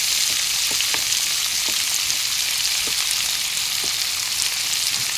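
Onions sizzle steadily in hot oil in a pan for a pomfret fish bhuna, a loud continuous hiss with occasional soft stirring clicks, no talking.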